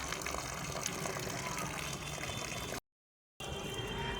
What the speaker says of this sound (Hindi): ये नीचे से जब भी हम पानी देते हैं तो हम देखते रहते हैं कि पानी का जो फ्लो है वो कैसे है